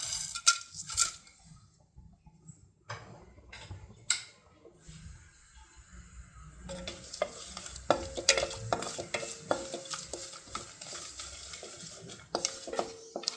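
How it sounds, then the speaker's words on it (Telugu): Whole spices dropped into hot oil for stuffed brinjal biryani: a quiet start with a few metal clinks, then a crackling sizzle swells in partway through, mixed with light utensil taps and stirring. "ఇప్పుడు ఆయిల్ హీట్ అయిపోయింది కదండి, ఇప్పుడు ఇవి వేసుకుని ఫ్రై చేసుకుందాం."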